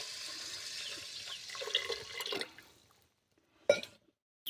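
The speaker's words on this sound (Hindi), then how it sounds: "और इसमें पानी डालेंगे।" Water is poured into a pressure cooker holding washed rice on a kitchen stove, a close splashing stream lasting a couple of seconds, followed by silence and a single clunk.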